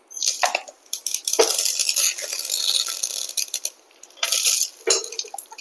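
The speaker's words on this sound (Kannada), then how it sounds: "ಪಾತ್ರೆ ಬಿಸಿ ಮಾಡಿಕೊಂಡು ಒಗ್ಗರಣೆ ಹಾಕೊಳ್ತಾ ಇದ್ದೇನೆ." Mustard seeds and chilli tempering in a hot pan for a Malabar spinach palya, with bursts of crackling, sputtering and stirring, loud and close in two main waves with a quieter stretch between, and no talking.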